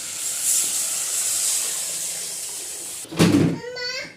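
Hot ghee tempering with curry leaves hisses steadily, then flares into a louder sizzling burst as horse gram (kollu) rasam is poured in near the end, with a voice briefly heard at the close.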